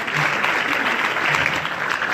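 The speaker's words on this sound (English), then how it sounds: "Let's give them a big round of applause." Dense applause from a seated audience at a 2018 award ceremony, a steady wash of clapping filling the whole stretch with no pauses.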